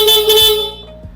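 A stock motorcycle horn gives a single loud, close, steady honk lasting under a second before cutting off, followed by a faint low bump.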